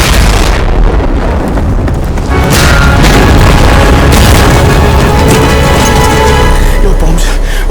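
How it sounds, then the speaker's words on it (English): Loud, dense bomb explosions in a video game, booming blasts and crackling debris rolling together in a continuous barrage with no pauses. "that's because my bombs went off"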